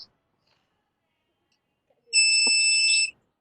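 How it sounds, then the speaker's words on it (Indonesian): An IoT humidity sensor's electronic buzzer gives one steady, shrill beep lasting about a second, clear and close, after a near-silent pause. "itu bisa menggunakan notifikasi berupa buzzer atau suara"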